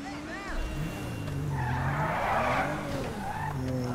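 In Grand Theft Auto V with real-life mods, a car engine revs with tire skids and squeals, loud and continuous, while someone talks over it in Urdu.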